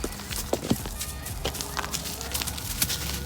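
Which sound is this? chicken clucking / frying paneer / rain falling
chicken clucking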